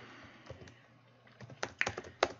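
Quick bursts of typing on a computer keyboard, scattered soft key taps that grow into a cluster of sharper clicks, close and quiet with no talking.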